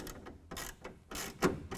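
Clamps on a hard folding tonneau cover on a 2014 Toyota Tundra being tightened with a 1/2 inch wrench, heard as a few short metallic ratcheting clicks and turns in bursts, close by with no talk.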